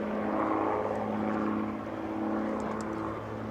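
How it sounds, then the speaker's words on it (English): A vintage propeller airplane flies at the EAA AirVenture airshow, its engine giving a steady, moderately distant drone with a slight shift in pitch near the end. "Now, David's going to climb for altitude"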